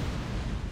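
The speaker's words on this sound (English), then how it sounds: "That's the plasma burst generator." Plasma burst generator firing in the space combat game X3: Terran Conflict, heard as a continuous loud, rumbling blast with heavy low-end roar and crackle, steady for under a second with no speech over it.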